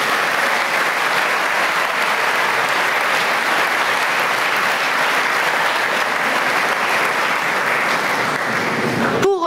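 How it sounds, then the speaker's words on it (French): Sustained, dense applause from a large dinner audience at a formal French community gala, loud and steady throughout, honoring volunteers of a security service, with a voice briefly starting at the very end. "Je vous demande d'applaudir chaleureusement tous nos bénévoles du"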